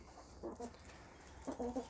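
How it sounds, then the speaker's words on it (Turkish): A young ispenç rooster crows nearby on a poultry farm, two short, strained bursts separated by a pause, with faint background noise. "Yan tarafta bir tane ispenç öttü duydum"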